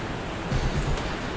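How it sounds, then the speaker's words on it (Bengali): A river flows near the trail to the Madmaheshwar temple as a constant, soft wash of broadband rushing water, with a faint swell midway and no other distinct sounds. "নদীর আওয়াজ"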